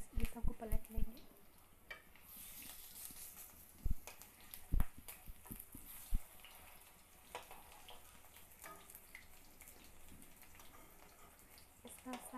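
Moringa leaf pakoras fry in hot oil as they are turned over. A soft bubbling sizzle runs underneath several sharp utensil clinks and scrapes near the start and middle, all close and fairly quiet.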